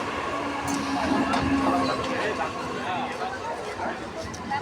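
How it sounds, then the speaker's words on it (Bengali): A train pulls into a station, a steady rumbling wash of wheels and carriages under the busy chatter of a crowd on the platform. "স্টেশনে ট্রেন ঢুকে গেল এবার"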